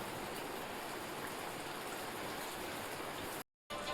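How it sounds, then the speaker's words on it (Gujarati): Steady rain falls as a dense, even hiss throughout, broken by a brief dropout of silence near the end, with no voices. "વરસાદ જો અમારે ચાલુ જ છે."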